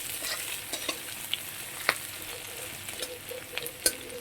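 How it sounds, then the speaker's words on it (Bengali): Onion fries in oil in a pan until reddish, a quiet continuous sizzle punctuated by a handful of crisp spatula clicks and scrapes, with no one speaking. "লাল লাল করে একটু পেঁয়াজটা ভেজে নিই।"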